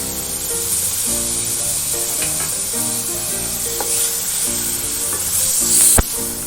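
A large tomato frying in a pan for a jackfruit kabab rice dish, giving a loud continuous sizzle and hiss with intermittent stirring scrapes and one sharp clack near the end.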